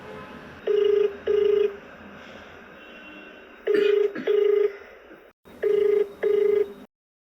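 Telephone ringback tone on an outgoing call from a TV programme, sounding in three pairs of steady double rings separated by pauses, clear over a faint background hum.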